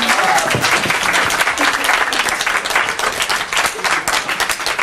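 Loud, dense applause from a cabaret audience at a singing contest, steady clapping filling the whole stretch, close and continuous with crowd noise mixed in.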